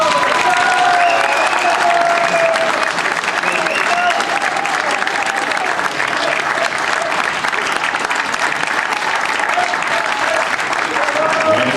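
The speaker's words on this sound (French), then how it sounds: "je souhaite que vous leur fassiez une vraie fanfare d'applaudissements" A carnival crowd at the prince's enthronement in Martelange bursts into loud, sustained applause, a thick unbroken roar of clapping with some cheering that holds evenly for about twelve seconds.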